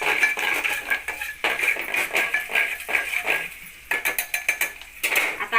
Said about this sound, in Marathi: आता याला छान असं मिक्स करून घेते